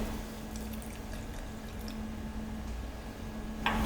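Water is poured into the centre well of sweet pastry dough, a soft, close, steady trickle with light wet squishing, quiet and without talk.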